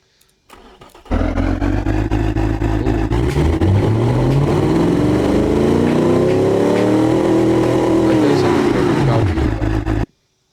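Muscle car engine of about 300 horsepower, built in BeamNG.Drive, starts with a brief crank and settles into a loud, steady idle and drone whose pitch swells upward and back down as it revs, then cuts off abruptly.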